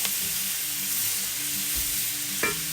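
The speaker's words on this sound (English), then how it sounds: "we're just gonna brown the meat" Meat browning in a pan gives a steady, close sizzle with a soft scrape of stirring and one brief sharper clink near the end, no talking.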